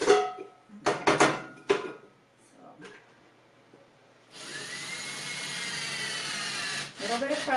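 A high-pitched drill whines steadily for a few seconds after some short bursts and clatter, then briefly cuts out and restarts.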